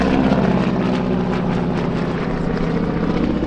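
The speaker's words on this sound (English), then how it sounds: "here's another chance to get a picture of the T6 Texan" AT-6 Texan propeller warbird flying low at an aerobatic airshow, a loud, steady radial-engine drone with a buzzing propeller roar that holds throughout at close range.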